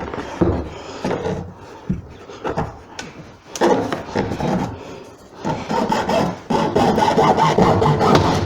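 The rear fender of a Suzuki V-Strom 650 motorcycle is cut by hand, giving close, uneven rasping saw strokes in bursts with short pauses between them.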